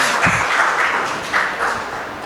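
Audience applause at a felicitation ceremony honouring doctors and chartered accountants, a moderate steady patter of many hands clapping together with no talking over it.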